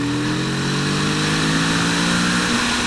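A Kawasaki Z650 RS twin-cylinder motorcycle engine revs hard, a loud, sustained mechanical drone with strong harmonic tones that climb slightly in pitch toward the end.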